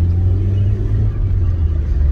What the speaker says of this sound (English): I realise it's got a really lovely transmission noise, this car as well.